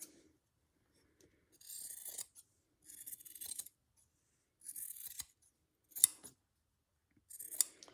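Scissors trimming fabric for a slow-stitched quilt, five short close bursts of crisp snipping separated by silence, with small sharp blade clicks.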